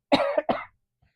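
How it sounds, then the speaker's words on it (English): A single person coughs once, a short close burst in two quick parts followed by silence. "Excuse me, I'm going to cough."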